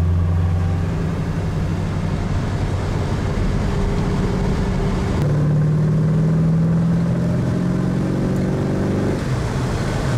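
MGB GT with a 4.6 V8 engine, Edelbrock carburettor and a five-speed gearbox conversion, cruising steadily in fifth gear; a continuous droning engine hum with shifting low tones, close and steady throughout.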